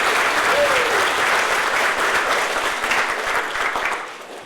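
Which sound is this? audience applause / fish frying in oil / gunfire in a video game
audience applause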